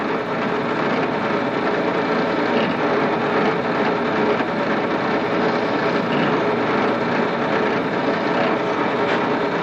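A steady, continuous machine whir with a gritty cutting texture runs unbroken, close and fairly loud, like a drill biting shallowly into material.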